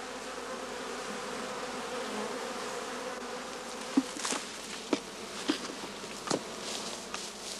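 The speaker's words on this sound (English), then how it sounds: "The bees now set about enlarging the entrance of their skep by gnawing it" Honeybees swarm at the entrance of a straw skep as they gnaw and enlarge it, a steady close insect buzz with a few louder bee passes and soft ticking knocks.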